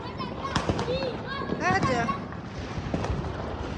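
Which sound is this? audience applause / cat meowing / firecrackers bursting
firecrackers bursting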